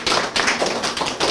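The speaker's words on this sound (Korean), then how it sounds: "박수로 맞아주십시오" Brief burst of audience applause at a Korean art exhibition welcoming a painter, many hands clapping close and steady in dense rhythmic waves with no voices over it.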